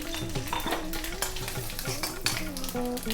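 Mustard seeds, urad dal, curry leaves and a little turmeric crackle in hot oil for a South Indian tempering, with a steady close sizzle and light stirring clinks throughout.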